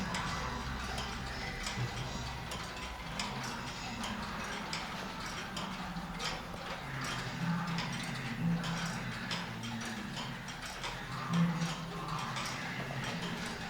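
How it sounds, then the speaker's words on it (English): Many clocks ticking together in a museum room of clocks in Querétaro, Mexico, a soft, steady mix of overlapping ticks beneath a constant room murmur. "You can probably hear them tick-tock, tick-tock."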